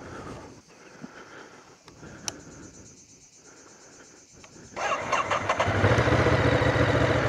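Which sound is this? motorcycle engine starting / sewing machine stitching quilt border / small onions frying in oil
motorcycle engine starting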